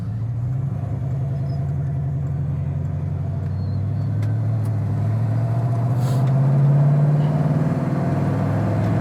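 Low, steady engine drone from inside a 1967 Pontiac GTO, the pitch rising under acceleration and then shifting as it changes into second gear, near and continuous.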